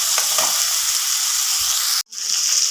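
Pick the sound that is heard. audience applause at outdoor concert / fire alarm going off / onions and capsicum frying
onions and capsicum frying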